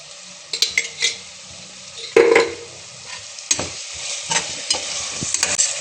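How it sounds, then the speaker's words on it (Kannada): Ginger garlic paste is stirred and fried in a pan for a white chicken pulao, giving a steady close sizzle with a spoon repeatedly scraping and clinking against the metal. "ಈಗ ನಾನು ಶುಂಠಿ ಬೆಳ್ಳುಳ್ಳಿ ಪೇಸ್ಟ್ ಸೇರಿಸ್ತಾ ಇದ್ದೀನಿ"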